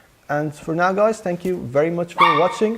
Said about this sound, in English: That was my dog, by the way.